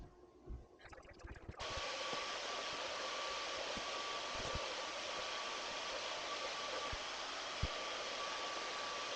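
A vacuum cleaner starts up after a few handling knocks and then runs with a steady, loud hiss and whine while cleaning the base of an RV couch in a toy hauler, with occasional bumps from the nozzle.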